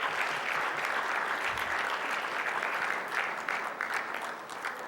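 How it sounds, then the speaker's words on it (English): Sustained applause fills an athletics hall of fame ceremony, a dense, steady clapping from a large audience held at even loudness for several seconds with no voices on top. "a big round of applause, please, also for Vice Chancellor Titus."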